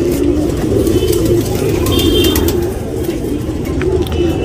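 A black Surmai male tournament pigeon in Bangalore coos loudly and close by, giving low, throaty, repeated rolling calls over a steady background hum.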